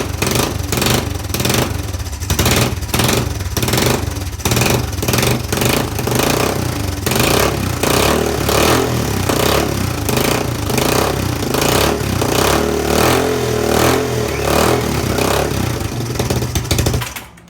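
A Kawasaki ATV engine runs on choke with a loud, close, rough clattering chug, rising and falling as it is revved in uneven bursts for the whole stretch before cutting off at the end.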